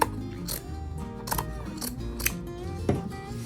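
Scissors snipping through craft ribbon on a DIY farmhouse decor project, a few quiet separate cuts spread across a few seconds, close by and alone without talk.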